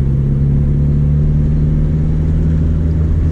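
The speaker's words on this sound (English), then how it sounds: "first skids with the new motor." A Nissan S13 with a new SR engine, fitted with stock steering wheel and seat, drones loudly while drifting, a steady, heavy low rumble with no talk.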